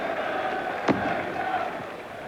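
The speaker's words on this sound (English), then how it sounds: "We've got Roman candles, bangers, Spitfires and everything here tonight." A single sharp firework bang cracks out on bonfire night over the low roar of a football crowd at a Nottingham Forest match, with a fainter pop following near the end.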